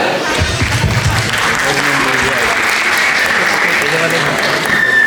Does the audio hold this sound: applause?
yes